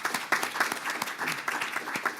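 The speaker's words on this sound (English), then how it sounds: "Let's give them a hand." Conference audience in New York applauding, dense sustained clapping from a full room that stays loud and steady throughout.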